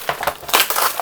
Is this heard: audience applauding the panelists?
no